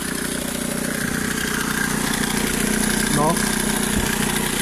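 A Volkswagen Passat B4 1.9 TDI diesel engine idles steadily up close with a constant mechanical hum, a brief chirping noise cutting in near the end.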